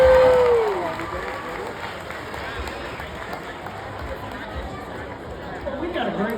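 A rodeo crowd at a county fair grandstand claps and cheers after a bull riding section, a broad, steady wash of applause and chatter that swells briefly at the start and then holds at an even level.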